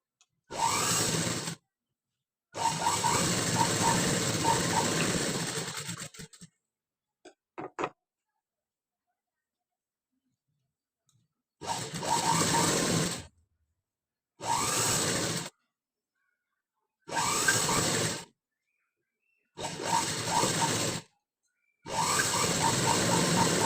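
A sewing machine double-stitches a prince-cut boat-neck blouse, running in several separate bursts of steady motor whirr broken by silent pauses, close and alone with no talk.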